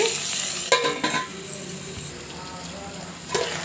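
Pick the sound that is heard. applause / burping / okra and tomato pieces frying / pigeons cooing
okra and tomato pieces frying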